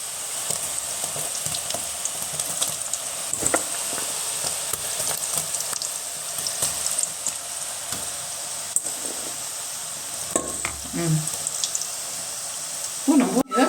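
Groundnut pakoda batter dropped into hot oil, a steady close hiss of frying throughout with small crackles and pops, and a louder clatter of stirring near the end.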